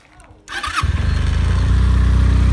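A TNT300 motorcycle engine cranks briefly and catches, then settles into a steady, close, low idle that holds to the end.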